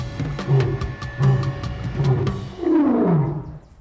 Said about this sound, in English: You can really see that the roar comes from deep within his gut